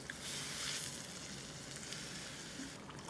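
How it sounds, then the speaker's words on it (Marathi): Hot mutton stock and cooked mutton pieces go into a sizzling pan, giving a faint, even hiss of frying that swells briefly near the start, with no voices. "आता आधी स्टॉक घालतो आणि पीसेस देखील घालूयात"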